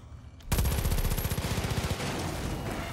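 Rapid automatic gunfire in Far Cry 5 aimed at a destructible object, a sudden loud burst starting after a short quiet lead-in, fast regular shots for about a second and a half, then a lingering rumbling tail.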